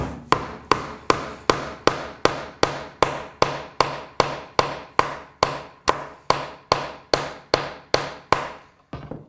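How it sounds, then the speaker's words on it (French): Cut nails driven one after another into a thick oak board, a steady run of about twenty sharp, loud hammer blows at an even rhythm, each ringing briefly before the next strike. "je plante les clous au fur et à mesure dans le chêne"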